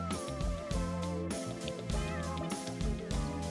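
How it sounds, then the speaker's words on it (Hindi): A pet cat meows over steady, bright background music, the cries short and mid-loud and blending into the melody, with no one talking. "कैट को हिंदी में बिल्ली कहते हैं। यह बहुत प्यारी होती है और म्याऊं म्याऊं करती है।"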